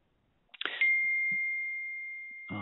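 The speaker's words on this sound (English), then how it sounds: "I'm getting the bell here." A single bell chime rings out during a lecture on caring for people with obsessive-compulsive disorder, a sharp strike followed by a long, steady sustained tone that slowly fades, heard alone before speech resumes.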